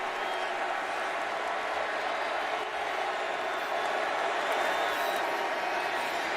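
A large stadium crowd at the Cotton Bowl college football game between Memphis and Penn State roars in a steady, dense wash of cheering and noise that holds level throughout.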